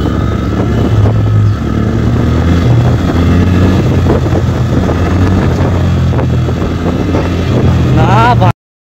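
A motorcycle rides along a road, its engine droning steadily and loud throughout with heavy wind rush over the microphone, ending abruptly.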